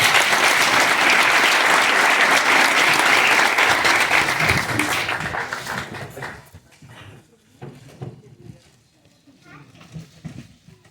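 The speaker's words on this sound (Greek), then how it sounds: "να τον καλωσορίσετε με ένα ζεστό χειροκρότημα." An audience at a book presentation bursts into loud, sustained applause that fades after several seconds, then scattered voices and light noises follow.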